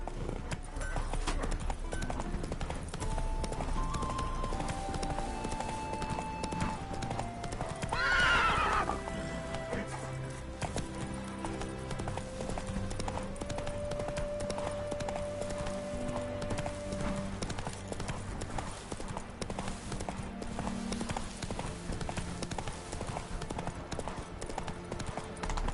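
Hooves of a horse in The Witcher 3 clip-clop steadily over a continuous game music bed, with a whinny partway through and faint voices in the background.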